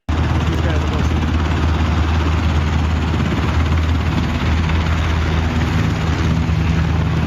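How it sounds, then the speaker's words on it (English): Black Hawk military helicopters fly over Washington, D.C., their rotors and engines making a loud, constant, dense roar that fills the whole stretch without a break. "Blackhawks were seen flying in and out of D.C."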